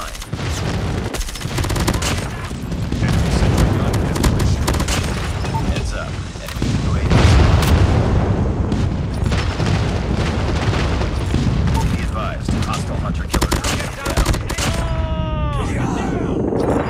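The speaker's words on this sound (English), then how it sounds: "Friendly airstrike incoming." Airstrike explosions in the shooter game Call of Duty Mobile, loud booms and gunfire bursts layered over continuous battle noise, with automated announcer-style voices talking over the din.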